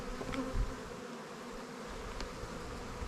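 Honey bees hum in a hive colony being checked for queens, a dense, steady close buzz that keeps a constant level from start to finish, with no voices.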